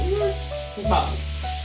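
Garlic sizzles in a hot pan while chicken cacciatore is being cooked, a steady close frying hiss with faint crackles and no talking.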